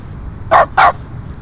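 Dog barking in a streamer's room, two quick, sharp barks close together at moderate distance, standing out from a quiet room background.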